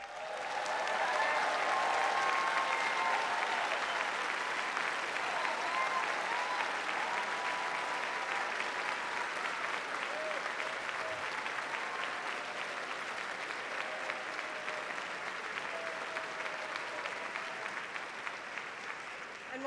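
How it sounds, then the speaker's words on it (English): A large audience at the White House Correspondents' Dinner applauds steadily for a long stretch, dense clapping with faint cheers and voices mixed in, slowly thinning toward the end. "let's give them all a round of applause"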